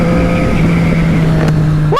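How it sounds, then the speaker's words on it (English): A Triumph Street Triple RS middleweight motorcycle engine holds a loud, close, steady drone, then revs up sharply at the very end. "I still get excited to this day when I ride this motorcycle"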